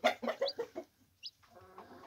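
A Gurk hen gives a quick run of close, clear clucks, followed by fainter high peeping from newly hatched chicks.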